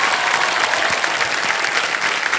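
Steady applause from the studio audience of the game show Kaun Banega Crorepati, dense clapping that holds at an even level throughout.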